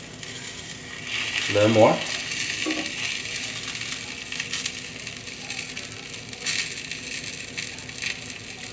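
Salmon fillet pan-searing skin-side down over low heat, a soft steady sizzle with a brief louder crackle early on, running under a short spoken word.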